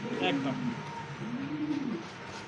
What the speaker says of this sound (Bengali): ডাকটা দেখেন এটা হলো মাদি কবুতর